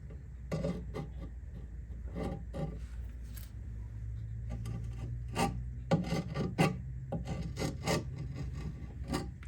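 A small wood chisel scrapes old gasket sealer off the metal inspection cover of a 1924 Ford Model T, a run of rough, rasping strokes in uneven bursts, close and fairly quiet with a low hum beneath.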